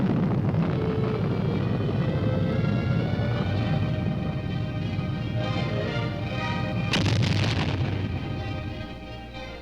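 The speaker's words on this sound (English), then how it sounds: "The Army's Lacrosse, a deadly accurate weapon designed to deliver tremendous firepower in support of ground troops." A US Army Lacrosse field artillery missile fires with a heavy, roaring rumble that swells and holds, then a sharp loud burst near the end before the roar slowly fades.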